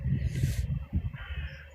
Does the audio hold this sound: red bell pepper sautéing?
no